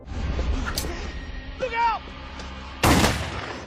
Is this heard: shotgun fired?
yes